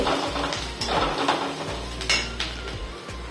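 Metal spoon scraping and clinking in a pan as vegetables are stirred with turmeric and garam masala, quick close rhythmic scrapes over a soft sizzle.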